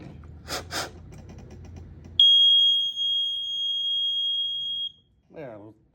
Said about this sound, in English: An appliance is beeping.